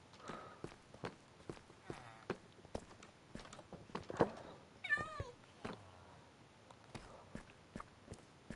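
Cats meowing in Minecraft Bedrock survival mode, a few short rising and falling meows amid quick game footsteps and clicks, fairly quiet overall.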